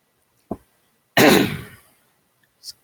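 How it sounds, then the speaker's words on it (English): A short throat-clearing grunt, then one loud harsh cough that trails off, followed by a faint breathy sound; no talking. "Excuse my coughing."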